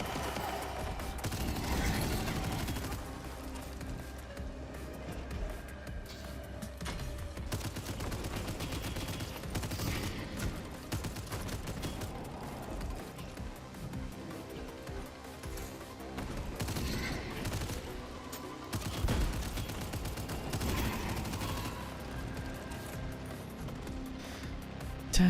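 Sustained gunfire in a first-person shooter roguelike, loud bursts and rapid shots running continuously with mechanical clatter and game effects, no pauses in the barrage.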